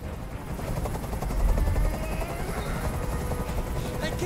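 A steady, loud hovering helicopter rotor drone with rumbling low thumps fills the clip in the video game Detroit: Become Human, with faint game sound effects mixed underneath.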